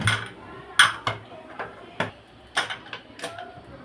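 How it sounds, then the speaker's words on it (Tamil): A pressure cooker lid being placed and closed during egg biryani cooking, heard as a series of close metallic clinks and clanks, sharp and irregular, in a quiet kitchen. "செக் பண்ணிவிட்டு நம்ம குக்கர் மூடி வச்சு மூடிடலாம்"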